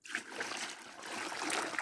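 Water trickling and splashing in a creek near a water pipe outdoors, a steady close bright wash with small splatters through the short stretch.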